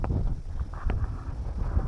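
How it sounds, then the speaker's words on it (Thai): Cold winter wind gusts steadily across a microphone outdoors in a rural field where buffalo are kept, a constant low rumbling buffet with no clear breaks, loud and close. "ลมหอบความหนาวมาเยือน"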